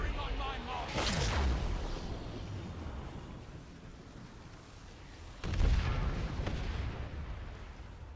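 Heavy gunfire blasts during a raid in a video game: two loud booming bursts, one early and one past the midpoint, each trailing into a low rumble with quieter background noise between.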